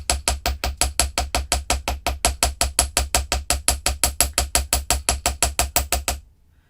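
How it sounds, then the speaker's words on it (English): A hammer strikes a wire bangle on a metal bench block in a fast, steady series of roughly thirty sharp metallic taps, close and loud, ending abruptly. "hammer the bottom"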